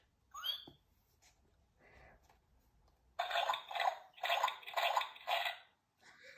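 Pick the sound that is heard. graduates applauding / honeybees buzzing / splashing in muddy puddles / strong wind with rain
splashing in muddy puddles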